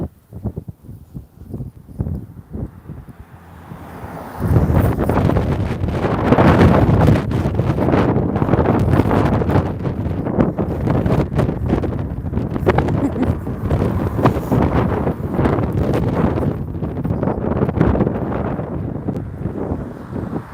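Gusty wind buffets the microphone outdoors on a lakeside walk past a row of Victorian sandstone houses, a loud, continuous low rumble that swells after the first few seconds and stays strong, with a little background noise mixed in.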